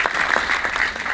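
A crowd applauds the writer and director of the Gujarati film Lalo Shree Krishna Sahayte at a star cast event, with steady, dense clapping that holds evenly throughout.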